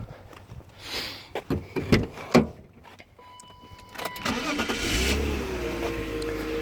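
A few clicks and thumps give way to a starter cranking and the six-cylinder engine of a restored BMW E38 7 Series catching, settling into a smooth, steady idle close by.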